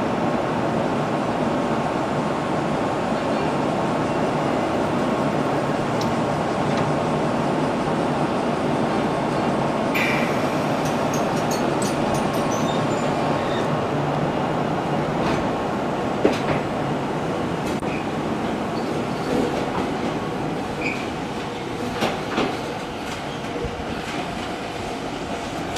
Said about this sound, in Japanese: まずは、本線直通急行を見送ります。